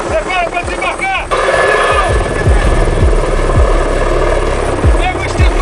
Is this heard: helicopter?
yes